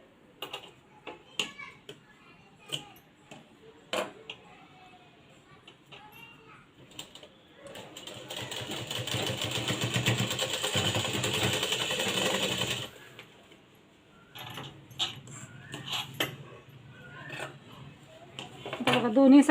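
A sewing machine stitches piping onto a blouse in one steady, continuous run of several seconds, with a person talking before and after it.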